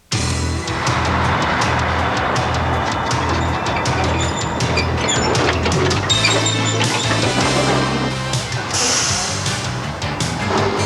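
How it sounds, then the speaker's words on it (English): A log loader truck pulling a pup trailer of logs rumbles steadily and loudly close by at a sawmill, with clanks and knocks scattered over the heavy engine drone. "This baby's called a loader truck, with what they call a pup trailer attached behind to haul even more logs."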